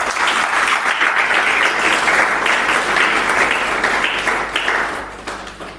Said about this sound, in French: Acclame le Seigneur s'il te plaît.